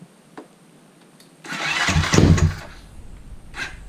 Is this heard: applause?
no